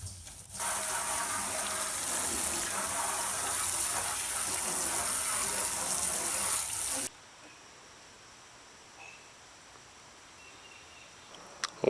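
Water sprays hard and steadily into the interior of a budget rock crawler for about six seconds, then cuts off abruptly, leaving near quiet with faint drips and small knocks.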